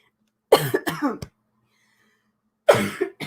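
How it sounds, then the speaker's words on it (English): Two short bursts of coughing close to the microphone, each a quick cluster of harsh coughs, separated by over a second of silence. "so I apologize for any coughing"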